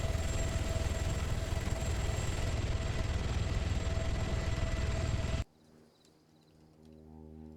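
Helicopter in a military combat video game, a loud steady rotor-and-engine roar that fills the first five seconds, then cuts off abruptly to a much quieter low background hum.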